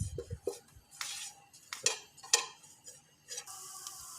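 Spices and onion roasting in a pan, with faint sizzling under scattered scrapes and clinks of a utensil stirring against the metal, quiet and intermittent.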